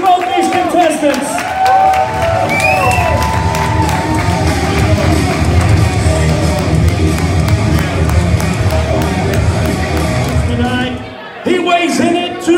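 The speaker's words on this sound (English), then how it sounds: "Big round of applause for both these contestants" Crowd at an amateur fight night cheers, whoops and claps for both contestants, a loud sustained roar with shouts and a voice over a sound system, dipping briefly near the end before swelling again.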